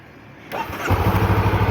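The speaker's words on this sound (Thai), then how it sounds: "เปิดกุญแจแล้วสตาร์ทรถ" A 2020 Honda CBR500R motorcycle starts up: a short starter whir leads into the engine catching, then a steady, pulsing idle close by.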